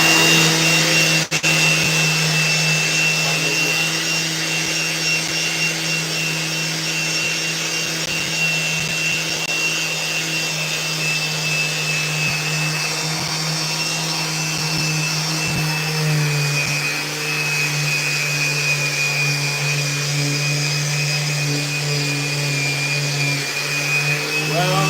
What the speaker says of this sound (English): there's a Festool vacuum attached to this